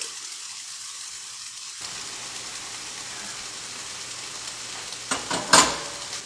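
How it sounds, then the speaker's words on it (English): Beef strips and chopped bell peppers sauté in a hot pan for a Philly steak bowl, a steady broadband sizzle building after a quiet start, with a few louder stirring scrapes and crackles near the end. "It's going to take a little bit to break down the vegetables, let them get sauteed."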